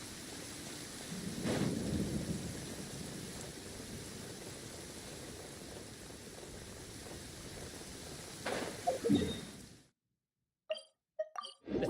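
Steady rain hiss with low rumbling thunder in a video game, a louder thunder crack near the end before the sound cuts out and brief game sounds follow.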